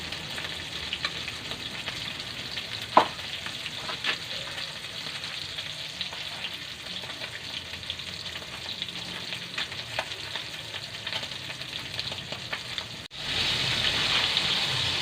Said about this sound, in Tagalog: luto na po yung una nating prinito